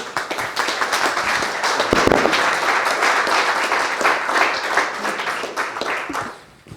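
Audience at a wine-industry viticulture conference applauding after a talk on clonal selection, a full, sustained round of clapping that holds steady and then fades out at the close.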